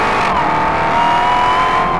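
A 2023 Dodge Charger Hellcat Redeye with a 6.2-liter supercharged V8 does a smoky burnout, a loud sustained engine roar with a rising supercharger whine and tire noise, no speech.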